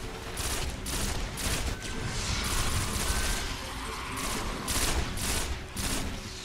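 Rapid pulse rifle fire in the Destiny video game during a public event, dense repeated shot bursts mixed with other game noise, continuous and fairly loud with no talking.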